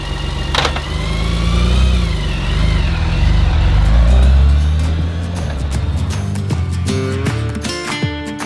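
A motorcycle engine drones loud and close while riding outdoors in Utah, its pitch rising and falling with the throttle through gear changes before easing toward a lower, rougher idle near the end.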